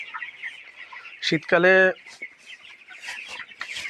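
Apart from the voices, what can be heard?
chickens clucking on a poultry farm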